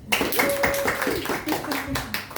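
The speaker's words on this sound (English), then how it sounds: "Let's start by clapping hands for Wibelo" Audience at a Toastmasters-style club meeting clapping hands for a speaker, a scattered run of claps mixed with voices talking and calling out near the microphone.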